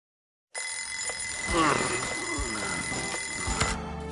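Alarm clock ringing in Lost Judgment, a continuous bright electronic ring that starts abruptly after a moment of silence and holds steady, with faint game sounds layered beneath it.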